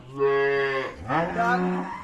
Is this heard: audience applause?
no